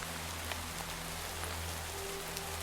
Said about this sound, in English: The rain is unfortunate